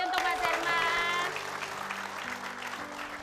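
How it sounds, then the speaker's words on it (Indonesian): A TV show studio audience applauds for a contestant named Mas Herman, steady crowd clapping beneath a host's voice and a few musical tones at the start. "Tapi kita kasih tepuk tangan sekali lagi untuk Mas Herman."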